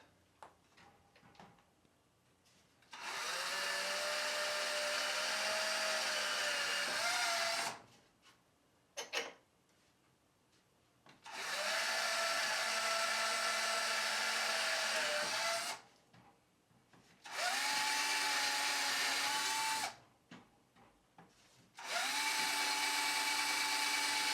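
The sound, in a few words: power drill drilling pilot holes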